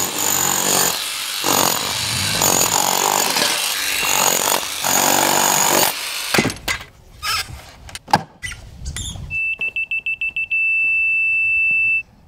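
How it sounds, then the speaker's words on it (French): A rotary hammer drill breaks up ground to prepare a driveway for paving, hammering loudly and continuously for about six seconds, then fading into scattered knocks followed by a run of high electronic beeps. "Sinon, prends un marteau perforateur et au boulot!"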